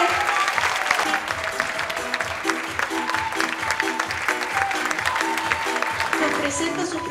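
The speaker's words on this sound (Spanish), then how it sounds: "Un aplauso más grande que se escuche." Audience at an Andean fashion show (QAYTUMPI 2019) applauding steadily, dense clapping filling the space for several seconds, with a host's voice carrying over it.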